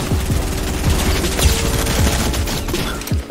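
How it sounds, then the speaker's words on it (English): Rapid AR-15 gunfire in Fortnite, a dense run of repeated shots rattling steadily for several seconds over busy game noise. "Why do you have an AR-15?"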